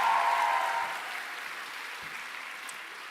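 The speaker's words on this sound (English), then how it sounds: "Let's give them a big round of applause" Audience applause at a youth creativity and well-being event, a steady wash of clapping that is loudest at the start and then thins to a softer, sustained patter.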